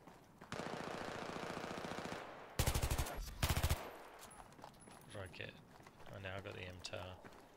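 Rapid automatic fire from an MTAR rifle in a video game, a sustained burst followed by two short loud bursts, with game effects and a voice talking afterward.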